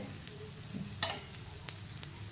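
Oil poured into a hot pan of frying rava sends up a soft, steady sizzle, with one brief clink of a utensil partway through.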